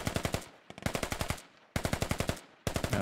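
Automatic gunfire in a Squad video game match, loud and close: rapid bursts of machine-gun fire in three separate volleys broken by short pauses, with no talking.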